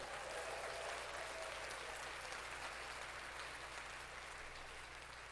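Applause from a studio audience on a college basketball talk show, a steady wash of clapping that holds at an even level throughout, with a low hum underneath.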